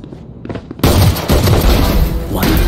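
Gunfire in the Valorant video game. After a quieter lead-in, a sudden loud blast starts a dense, sustained burst of booming shots that carries on to the end.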